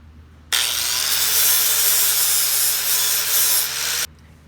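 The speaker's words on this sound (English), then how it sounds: "Grind that up, get the burrs off, and then we'll weld it back together." Power grinder steadily grinding burrs off the steel frame of a vintage mini bike, a loud continuous abrasive whine that starts abruptly, holds for about three and a half seconds, then cuts off, with a quiet room hum before and after.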